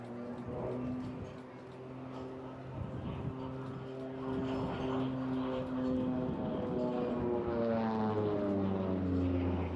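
An OV-10 Bronco twin-propeller aircraft flies at the Eastbourne International Airshow, its engines a steady droning hum that swells gradually louder and shifts in pitch as it passes.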